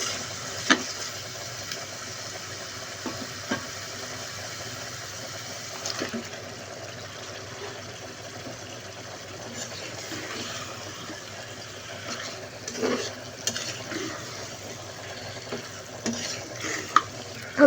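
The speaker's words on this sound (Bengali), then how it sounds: "মশলার সাথে চিকেনটাকে ভালো করে মিক্সড করে নিচ্ছি এবং ভালো করে কষিয়ে নিব" Chicken pieces stirred and fried in a spice masala for a home-style chicken and potato curry. A steady low sizzle runs throughout, with scattered scraping knocks of the spoon against the pan, moderately close and fairly quiet, with no talking.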